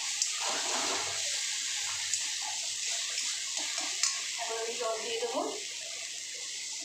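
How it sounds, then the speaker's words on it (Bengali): Water poured into a pan of tangra fish curry with spices cooked in oil, a steady broadband splashing rush filling the whole clip, with faint background voices and small clinks. "এখন আমি জল দিয়ে দেবো।"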